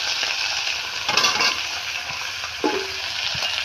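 Chopped ash gourd with slit green chilli fries in a pan, a constant close sizzle broken by a couple of stirring scrapes and a brief clatter of the spatula.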